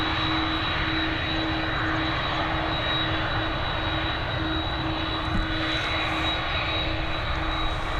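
A Lufthansa Airbus A320 departs Dublin Airport bound for Munich, its engines a loud, steady roar with a sustained whine held evenly throughout, with no voices.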